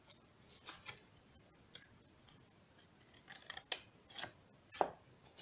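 Scissors cutting through firm, thick material for a Bascetta star paper model, with a steady run of crisp close snips and clicks and small scraping rubs, no voices.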